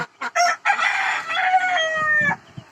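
Free-range desi hens and a rooster in a small backyard coop: a close rooster crow rises and holds for a couple of seconds, preceded by short clucks and followed by soft clucking.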